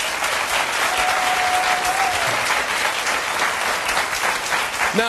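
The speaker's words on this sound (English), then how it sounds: "Please give my panel a round of applause" Sustained, loud audience applause greets a panel on a talk show, dense steady clapping filling the whole stretch without pause.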